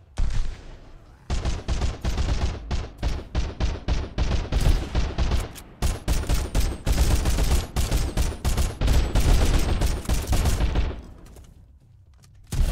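Enemy gunfire in the video game Sunkenland, loud rapid bursts of shots in dense repeated volleys, close and sustained for about ten seconds before fading to quiet.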